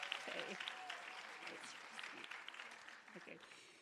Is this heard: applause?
yes